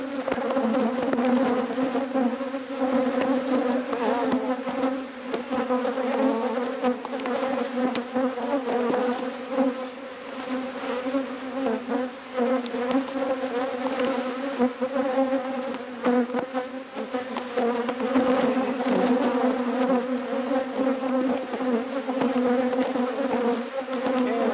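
Honey bees swarm around an open hive during a honey harvest, making a dense, steady, close buzzing that swells and dips slightly without pause.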